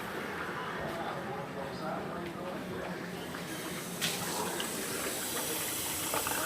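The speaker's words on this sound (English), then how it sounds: "Just use that tap water." Tap water runs from a kitchen faucet in a steady, close hiss, with a faint knock partway through and no voices over it.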